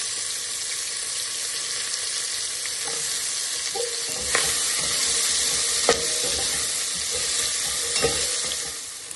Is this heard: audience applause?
no